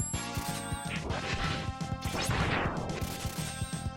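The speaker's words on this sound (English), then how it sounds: "that was the sound" Giga attack gauge filling up in Mega Man X2, a dense burst of crashing, smashing game effects with rapid percussive hits and a rising sweep, loud and busy, no voices.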